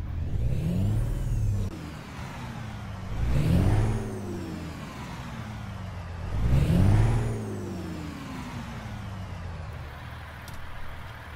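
A Volvo VNL truck with a Cummins engine in a truck simulator game revs three times, each rise and fall of engine pitch separated by a quieter idle, with turbo whine on top.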